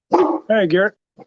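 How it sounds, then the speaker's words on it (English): A pet dog barks indoors at close range during a live broadcast from a watershed overlook, giving two harmonic barks and then a short, softer yelp after a pause. "Pardon my dog."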